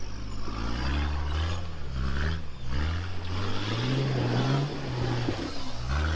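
A 4WD engine revs hard and rises in pitch as it climbs a rock step on Rockey Track in Toolangi, a close, continuous growl that surges and settles without talk.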